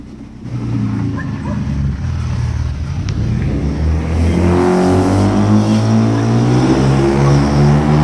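A 2025 Ford Ranger Raptor V6 with a Magnaflow full exhaust revs to about 3,000 RPM in sport mode. A steady engine hum grows into a louder, fuller, close rumble about halfway through and holds there.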